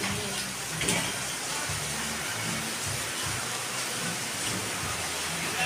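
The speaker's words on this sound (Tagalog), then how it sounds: "Maririnig nyo naman sobrang lakas ng ulan." Heavy rain pours down outdoors in a dense, constant hiss with a low rumble underneath, loud and unbroken throughout.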